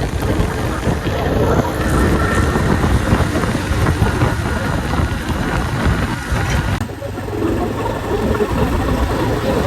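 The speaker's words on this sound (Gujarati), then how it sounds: "બાઇક સ્ટાર્ટ થઈ ગયું આપણું" A steady motorbike engine drones through a continuous broadband rush of wind and road noise while riding on a road, loud and close, with no voices.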